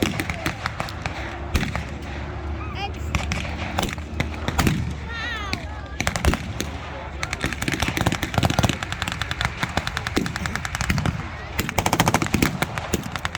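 An American .50 caliber machine gun fires in bursts during a World War II battle reenactment at Military Odyssey 2021, loud rapid stuttering rounds repeating throughout with scattered other gunfire, no voices.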